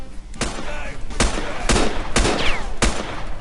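Loud gunfire from the video game Next Day, a string of sharp shots spaced roughly half a second apart over constant background noise.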